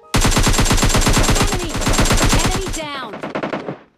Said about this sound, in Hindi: मेरे को अपार्टमेंट की साइड से बहुत तेज गन साउंड की आवाज़ आ रही थी